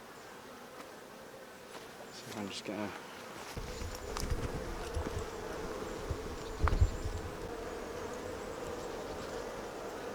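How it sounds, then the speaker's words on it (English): Wasps buzz around an open beehive while a beekeeper cleans a honey super, a close insect drone that swells and fades as they pass, with brief murmured speech and handling bumps partway through. "I'm noticing lots of wasps."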